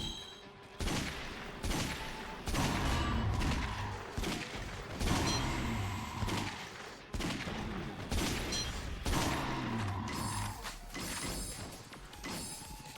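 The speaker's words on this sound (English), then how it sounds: "So we should probably just use the shotgun and try to go for some headshots." Repeated shotgun blasts in the action game Yakuza Dead Souls, loud booming shots spaced roughly every second or two amid gunfire clutter and game effects, with no talking.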